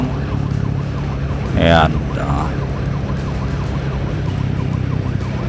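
An emergency vehicle siren wails through slow-moving traffic in Angeles City, a rising sweep over steady engine and road rumble, with a brief spoken word.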